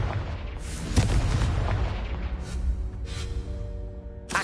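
The Confringo fire-blast spell explodes in the video game Hogwarts Legacy, with a series of heavy booming blasts and rumbling bursts that come close together, then a lingering tonal ring and further impacts.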